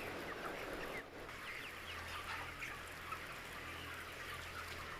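Chickens in a poultry barn keep up a steady, dense murmur of clucking and chatter, a continuous flock din with a low mechanical hum beneath it and no voices.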